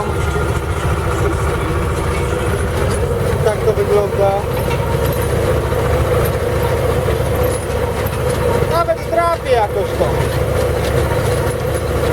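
A heavy engine drones low and steady throughout, a tractor pulling a cultivator, its rumble under close conversation, with a faint radio tune drifting in between.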